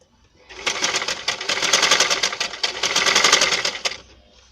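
A sewing machine stitches elastic onto palazzo pants in a single burst of rapid, evenly ticking needle strokes lasting a few seconds, close and fairly loud, starting and stopping sharply.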